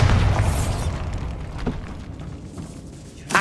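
A Bombarda blast spell from the video game Hogwarts Legacy erupts as a loud, rumbling explosion that booms at the start and slowly decays, with a smaller burst near the end.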